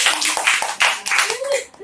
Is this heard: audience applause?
yes